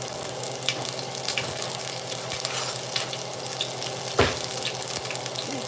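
Meat sizzling loudly in hot grease in a pan, a dense continuous crackle with scattered pops and a sharper spatter burst near the end, no voices.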